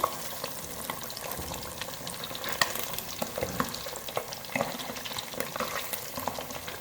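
Masala-coated fish, spiced with ginger-garlic and green chilli paste, frying in a pan over a medium flame, giving a steady dense sizzle with crackles and occasional spatula stirs, close and fairly quiet, no voices.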